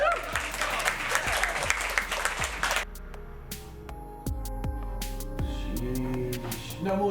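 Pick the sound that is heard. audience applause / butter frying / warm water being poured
audience applause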